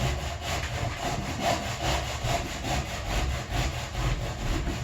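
Hand saw cutting through wood for a double locking over hand lap joint, with steady rhythmic back-and-forth rasping strokes, close and continuous, no talking.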